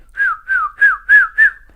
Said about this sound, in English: You have to do a whistle.